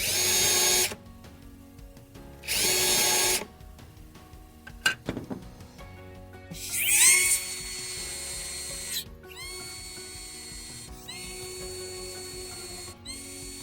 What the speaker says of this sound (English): And then you can simply drill into the bottom panel here.